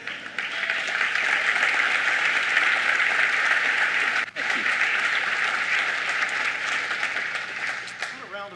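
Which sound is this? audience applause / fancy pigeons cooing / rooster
audience applause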